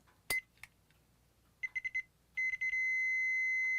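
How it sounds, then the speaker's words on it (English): Multimeter in continuity mode checking a fuse, a few short electronic beeps at first and then a steady sustained tone as the probes make contact, close and clean against a quiet background. "the meter should beep, indicating that there is basically no resistance from this point to this point"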